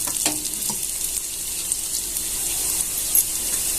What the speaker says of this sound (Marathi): आता यात आपण जिरे मोरी घालून घेऊया